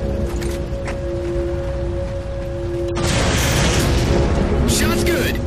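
Halo 4 particle cannon fire: a steady hum with tonal drones gives way to a sudden broad, rumbling blast that sustains loudly, with crackling bursts near the end and faint voices in the mix.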